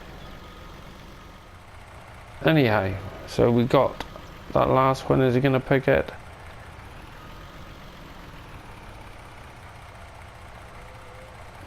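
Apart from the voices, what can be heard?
truck engine in Farming Simulator 19 video game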